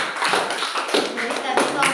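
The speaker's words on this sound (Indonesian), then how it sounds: "Coba semuanya kasih aplaus buat teman-temannya" A classroom of Indonesian students claps for their classmates in scattered, uneven applause lasting a couple of seconds, close and fairly loud with some voices mixed in.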